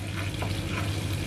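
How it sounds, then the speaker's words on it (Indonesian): Flour being stirred into a paste in a hot pan, a soft continuous sizzle with scraping stir sounds, brief and close with no voices. "Kita aduk terus sampai membentuk pasta."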